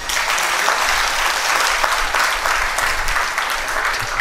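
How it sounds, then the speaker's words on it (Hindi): Applause from an audience gathered at a religious discourse session in a hall, a steady, dense clapping that stays loud and even for the whole stretch with no talk over it. "कोई ताली नहीं बजाता यहाँ?"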